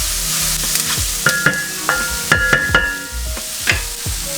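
Taco bowl salad ingredients sizzle in a hot pan while being turned constantly, with loud close frying hiss punctuated by repeated clinks and scrapes of a utensil against the pan.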